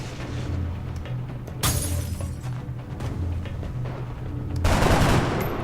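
Video-game gunshots from XCOM: Enemy Within: a sharp, loud crack about a third of the way in, then a heavier burst of shots near the end, over a steady low background hum.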